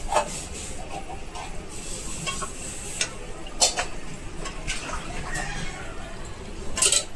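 Oil sizzles in a pan while a dry shrimp and potato masala with onion and tomato is stirred, a steady hiss with scattered clicks and scrapes of a spoon, a voice talking over it.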